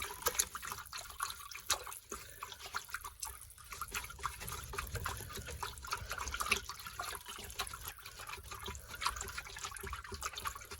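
Pond water with spoonfuls of koi treatment being stirred round in a bucket, a steady close sloshing and trickling swirl with small drips, continuous throughout and with no talking.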